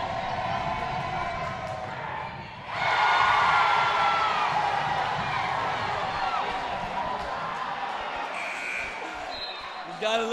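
A high school basketball tournament crowd roars loudly after a free throw, the cheering swelling suddenly and then sustaining under a commentator's voice before tapering off.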